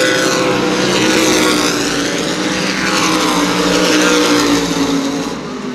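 Modified race cars roar around New Smyrna Speedway on opening night, a loud, continuous engine drone rising and falling as the pack passes close by, with no talk over it.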